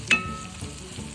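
Chicken and curry powder frying in a pan, a soft steady sizzle with one sharp clink of a utensil near the start, no talk.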